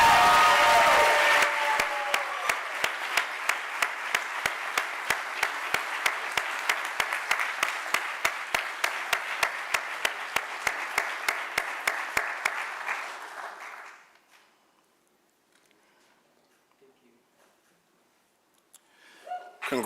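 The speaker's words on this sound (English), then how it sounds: "Let's give them another round of applause." Sustained audience applause at a 2025 awards ceremony after the final award is presented, a dense roar of clapping lasting about thirteen seconds before tapering off into near silence, with a brief burst of sound at the very end.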